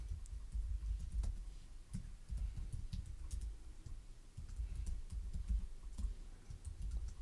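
Login details being typed on a computer keyboard, a run of quick irregular key clicks and taps at close range, fairly quiet and continuous throughout.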